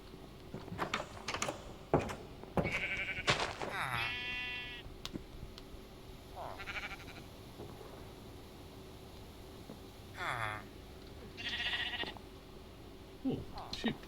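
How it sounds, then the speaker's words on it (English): Sheep bleat in the video game Minecraft, several short wavering bleats at intervals, mixed with computer keyboard clicks and a person talking over them. "Oh, sheep."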